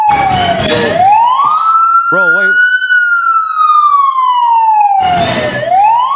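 A loud police siren wails in a long rising-and-falling sweep with a brief electronic yelp burst in the middle, close and dominant, while someone speaks briefly over the start and end.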